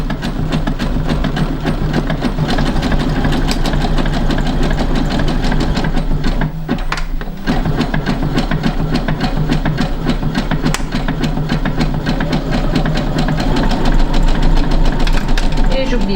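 A sewing machine runs a zigzag stitch along a seam, giving a loud, steady, fast mechanical whir that continues almost without a break throughout.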